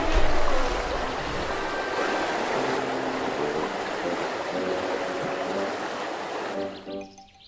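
River water flowing and rushing in a steady broadband wash, loud and close, with faint tonal notes in the background, fading out at the end.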